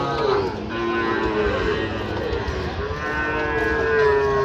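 A young bull calf at a cattle market lowing in a long, drawn-out moo with a wavering tone, loud and close, with faint background voices and farm noise.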